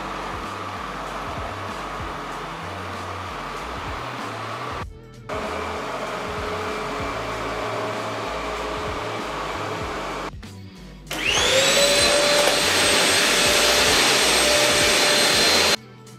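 An Ecovacs Deebot OZMO 900 robot vacuum cleaner whirs steadily, stopping briefly twice and switching to louder, higher-pitched power modes, close and continuous.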